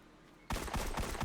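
Rapid gunfire in the video game Destiny 2 starts abruptly after a quiet moment, a loud, dense burst of repeated shots in quick rhythm.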